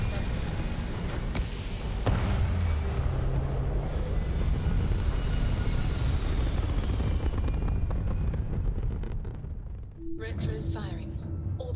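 Spaceship liftoff in the game Starfield, a deep sustained engine roar and rumble that builds and holds for many seconds before cutting off, with a voice talking over it.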